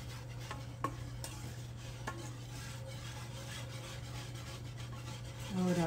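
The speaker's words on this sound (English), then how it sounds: "Stir it a little here." Corncob jelly mixture stirred in a pot, a steady scraping and rubbing with a few sharper knocks against the pot, close and moderately quiet over a constant low hum, alone without talk.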